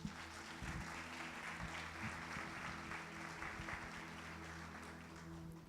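Church congregation applauding during a sermon, a sustained wash of many hands clapping at a moderate distance, with a steady tonal hum from the sound system underneath.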